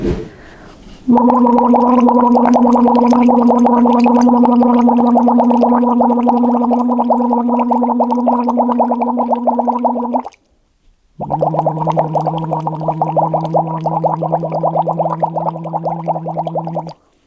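A singer does a lip-bubble trill, a buzzing fluttery tone held for several seconds, brief pause, then a second lower bubbling run.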